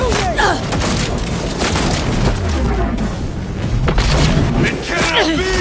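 Gunfire in the Cyberpunk 2077 video game, a loud, dense barrage of shots and booming impacts running continuously under game voices and music.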